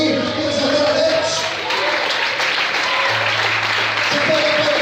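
A church congregation applauds during an evening worship service, a loud, steady wash of clapping that runs the whole stretch, with voices and a low tone sustained beneath it.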